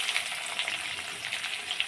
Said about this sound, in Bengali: পেঁয়াজটা ভাজা ভাজা করে নেব আগে, লাল লাল করে।